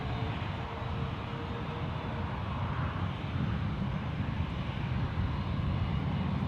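An Airbus A350 jet aircraft at San Francisco International Airport produces a steady, broad, distant engine roar that holds even throughout, with no talking over it.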